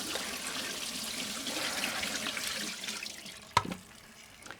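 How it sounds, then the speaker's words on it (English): Tap water running and splashing while dishes are rinsed at a sink in a kitchen with a wood burning stove, a steady moderate gush that fades toward the end, followed by a single sharp clink. "I just give them a good rinse with the tap"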